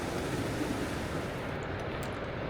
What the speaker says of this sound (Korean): 웅장한 소리와 함께 나무 사이로 거대한 폭포가 모습을 드러냅니다